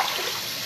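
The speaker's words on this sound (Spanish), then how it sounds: "Llevo, le eché 6 tazas de agua." Water pours in a steady broadband rush into a pot while making a Puerto Rican tembleque in a home kitchen, close and continuous for a brief moment without talk.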